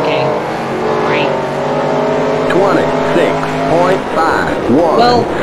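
Race car engine in the NASCAR Racing 2003 video game, droning steadily at high revs with rising and falling harmonic sweeps as it shifts and passes, loud throughout alongside speech.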